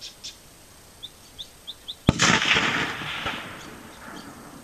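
Rifle firing a 168 grain match bullet at a target 300 yards out: one sharp, loud shot with a long rolling echo that follows, after a few faint chirps.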